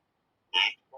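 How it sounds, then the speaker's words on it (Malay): A played recording of a gnu (wildebeest) call: one short, harsh, belch-like grunt, loud and close, following a moment of silence, with the onset of another sound at the very end. "Macam mana bunyi GNU? Cuba dengar baik-baik."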